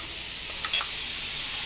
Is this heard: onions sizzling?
yes